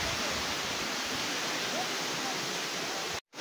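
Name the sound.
Kakawayan Falls waterfall, Infanta, Quezon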